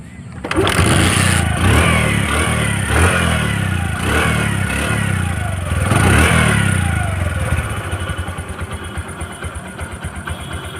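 A Bajaj Platina motorcycle, a 2011 model, starts up close by. It revs loudly in repeated surges with a rough, thumping engine note, then settles to a lower running idle.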